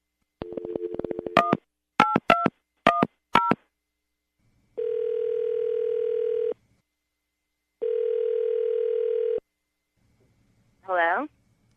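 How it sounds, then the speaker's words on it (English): A telephone call is dialed with a rapid run of keypad tones, then two long ringback tones sound alone. A brief voice answers at the end. "We're going to call her right now, get her on the phone"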